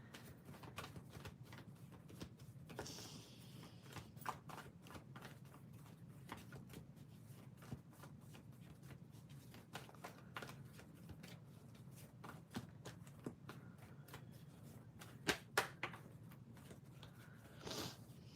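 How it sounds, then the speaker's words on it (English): Tarot cards being shuffled by hand during a live reading, a faint, soft, continuous riffling and patter with scattered small snaps, quiet and close. "I have to shuffle a little more"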